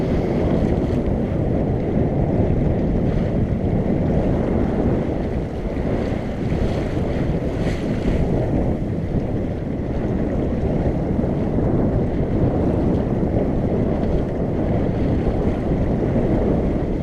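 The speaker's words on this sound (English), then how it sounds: "the wind will make it through in between the trees and then it'll stop" Strong wind roars across the microphone aboard a sailboat under way, with water rushing along the hull. The steady, loud blustering barely eases at any point.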